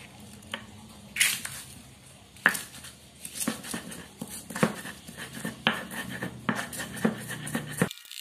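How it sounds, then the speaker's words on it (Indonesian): Eggshells being ground by hand as culture material for PSB photosynthetic bacteria: a run of close, irregular crunching and scraping strokes with sharp cracks, steady and fairly quiet, without talk. "langsung kita giling cangkang telurnya tadi"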